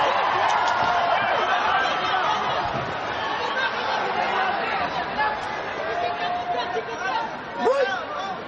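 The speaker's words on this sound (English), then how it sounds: "This crowd's getting loud." A packed boxing arena crowd in Manila roars and chatters in a continuous dense babble, with scattered shouts rising above the din.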